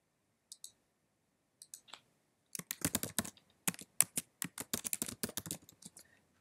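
Computer mouse clicks during software setup, a few sparse clicks early, then a rapid irregular burst of sharp, close clicks and taps, with no talking.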